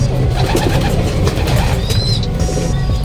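A racing pigeon coos in low repeated murmurs, close and fairly loud, over a constant background bustle, with a faint high chirp partway through and no talking.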